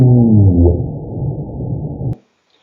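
Underwater whale song, a loud low moaning call with wavering tones that sustains for about two seconds and then cuts off to silence.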